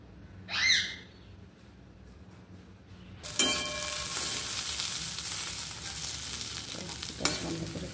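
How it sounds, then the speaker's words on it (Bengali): Potato and onion slices frying in a pan, a sudden loud, steady sizzle that starts partway through and continues close and even, with a brief high call beforehand. "তাই আজ একটু আলু পেঁয়াজ ভাজা করলাম।"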